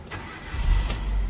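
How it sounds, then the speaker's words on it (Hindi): A Hyundai Verna, just freed of an immobilizer fault from a loose connection, cranks briefly and catches, its engine settling into a steady low idle nearby. "ये गाड़ी स्टार्ट हो गई।"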